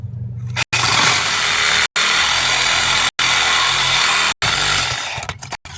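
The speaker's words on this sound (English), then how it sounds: "finish cutting this other end in preparation of soldering our 1-inch couplings" A Sawzall reciprocating saw cuts through 1-inch copper pipe in a front yard, a loud continuous buzzing rasp in several long bursts separated by brief stops, with no talking.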